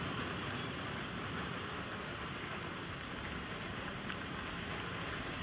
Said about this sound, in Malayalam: അപ്പം ഇതാണ് ഗായ്സ്, നല്ല പെരും മഴയാണ്.